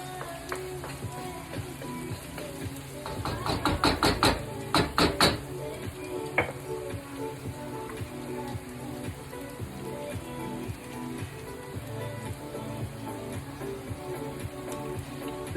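Sauce poured into a hot pan of browned tofu for vegan sesame chicken, giving a steady close sizzle with a burst of louder crackling and stirring bumps partway through.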